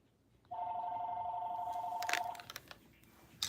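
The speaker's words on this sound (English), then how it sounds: "Now I have my phone is ringing." A telephone bell rings in one steady, loud tone for about two seconds, followed by a few clattery knocks and handling noises nearby.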